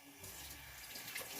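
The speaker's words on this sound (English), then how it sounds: "Just rinsed off my spoon" Faint running tap water splashes steadily as a spoon is rinsed under it in a kitchen sink, soft and continuous with no talking.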